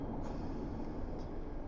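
A GWR Class 158 diesel train in Train Sim World 6 runs with a steady, loud rumble and rail noise throughout, with no voices over it.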